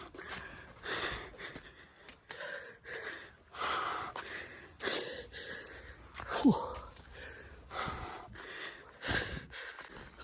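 Heavy panting and gasping breaths from a hiker climbing steep ground on a trek at Vattavada, repeated ragged breaths close to the microphone in a loose rhythm.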